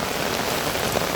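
Steady rain pours down in Rangpur village, a dense, even hiss of drops striking surfaces that stays loud and constant throughout, with no voices.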